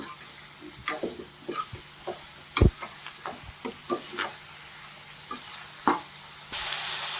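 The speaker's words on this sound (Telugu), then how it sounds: "ఇలా మొత్తం కలిసేలాగా తిప్పుకోవాలి" Ridge gourd and chana dal curry sizzles steadily in a pan while a spoon stirs it, with intermittent scraping knocks against the pan over continuous frying hiss.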